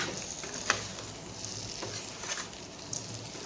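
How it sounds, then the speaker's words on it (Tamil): Potatoes frying on a low flame give a steady, gentle sizzle with soft crackles and occasional small pops, close and continuous with no talking. "உருளைக்கிழங்க இந்த இதுமாரி சிறு தீயிலேயே வச்சு வறுத்து எடுத்துக்கலாங்க."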